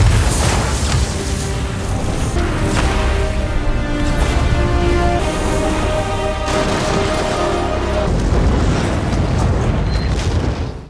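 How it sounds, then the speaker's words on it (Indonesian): A massive bomb blast in a film, set off near a gas pipe at an enemy base, roars loud and continuous with deep rumbling and crackling debris that sustains for around ten seconds. "Ledakan tadi begitu masif karena Mike menempatkan bomnya tepat di dekat pipa gas"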